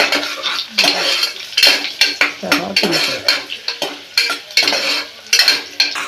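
Carrots fry in a pan for a vegetable pulao while a spatula stirs them, making close, repeated scraping and clinking against the metal over a steady sizzle, with no talking.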